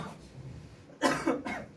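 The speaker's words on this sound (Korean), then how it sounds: "목사님 설교할 때 계속 기침하잖아" A pastor coughs during a sermon: a few harsh, close coughs in quick succession after a quiet, faintly noisy stretch, with no talking over them.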